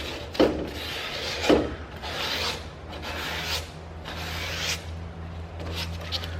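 Sandpaper roughing up the surface of a painted metal cubby shelf, a series of scratchy rubbing strokes with two sharper scrapes early on, close and repetitive, no talking.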